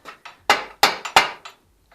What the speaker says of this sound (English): I believe my chisel's gone all the way through, which isn't what I wanted